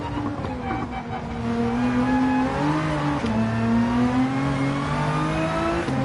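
Nissan GTR engine in Gran Turismo 7 racing, a steady droning engine note rising and falling in pitch as it revs and shifts, sustained and fairly loud throughout.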